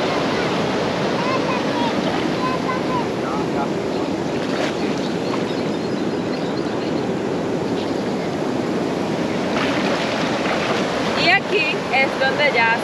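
Heavy surf from an aggressive, strong-current beach at La Guaira, Venezuela, roars continuously as big waves break near a river mouth, a dense steady wash with brief louder surges, and a person talks faintly beneath it.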